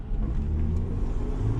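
A Nissan Skyline R33 GTS4 four-door sedan with an RB25DE engine and automatic gearbox drives an autocross course, giving a steady, close engine rumble and drone that stays loud throughout.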